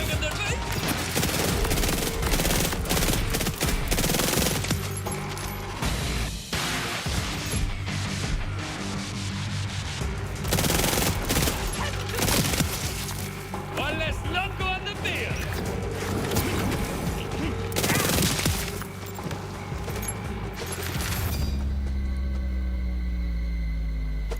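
Ammo-heavy automatic guns in the video game Borderlands 4 fire nonstop in loud, dense bursts. A voice talks through the barrage.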